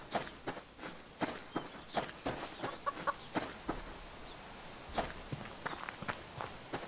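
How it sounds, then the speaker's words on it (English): Chickens cluck softly in the survival game Subsistence, with scattered clucks and calls mixed with a run of steady, close footsteps across the ground. "It always surprises me that you can hear these chickens and you don't actually notice them at all."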